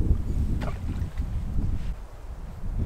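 Cold autumn wind buffets the microphone at a solo camping spot, a heavy low rumbling gusting roar that swells and dips continuously, with faint rustling above it and no voices.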